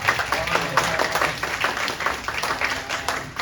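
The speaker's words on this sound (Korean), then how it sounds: "한번 박수 한번 줍시다" A youth group congregation at a church service claps together in a dense, continuous burst of applause, loud and close throughout, with some faint crowd murmur mixed in.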